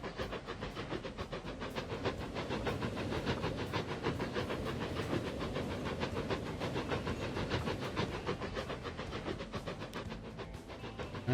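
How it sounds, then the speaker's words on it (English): An old train running in the video game Transport Fever 2, a steady rhythmic clickety-clack of wheels with a hissing, steam-like wash, moderately quiet and continuous with no talk over it. "That's a fairly old train."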